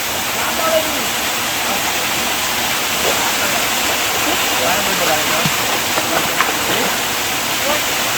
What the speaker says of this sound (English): There is one more waterfall here